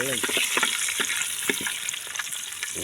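Mutton pieces fry in a pan outdoors at a farm, a loud dense sizzle with bubbling crackle and occasional stirring scrapes throughout.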